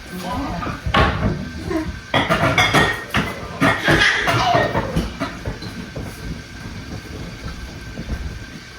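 A baking pan clattering and knocking as it is pulled out of a kitchen cupboard while cooking supper, several loud metallic bangs and scrapes in the first half, then quieter handling and soft background noise.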